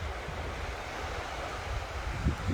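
Waves and wind at a seashore form a steady, broad rushing wash with constant wind noise on the microphone, and a couple of low thumps near the end; no voices.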